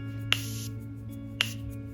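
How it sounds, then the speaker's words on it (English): Two short hissing bursts of a makeup setting spray bottle, about a second apart, over a quiet low hum. "I'm going to use my setting spray, or you can use water, and I'm just going to spray"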